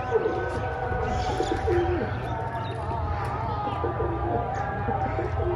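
A pigeon coos among a flock at a pigeon loft, low repeated calls under a steady bed of other birds and ambient noise, with fainter chirps scattered throughout.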